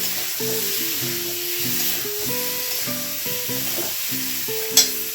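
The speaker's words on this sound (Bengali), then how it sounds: "আমি এর মধ্যে ডিমগুলোও দিয়ে দিচ্ছি, একটু নাড়িয়ে চাড়িয়ে নিই।" Eggs are stirred into a spice masala frying in a pan, with a steady sizzle and hiss running throughout, under repeated clinking and scraping of the stirring spoon and one sharp knock near the end.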